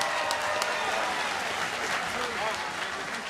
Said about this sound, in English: let's have a big round of applause for these two warriors.